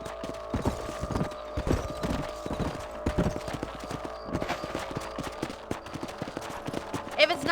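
Rapid clip-clop of horse hooves on hard ground in the video game Red Dead Redemption, steady and close, with metallic clinks and rustling over a low background hum.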